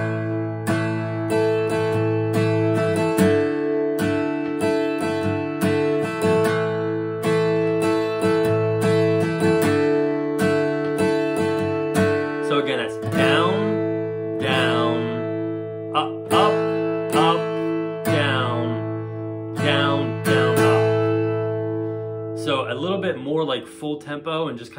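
An acoustic guitar strums a down-up strum pattern at a faster tempo for a worship song, with steady rhythmic chords throughout and a brief change in feel midway; no voice is clearly heard.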